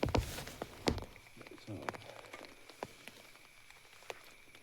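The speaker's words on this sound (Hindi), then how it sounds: "बारिश तो लगातार आ ही रही है" Rain patters steadily on a tent in a forest during strong wind, with scattered close drips and taps over a soft continuous hiss.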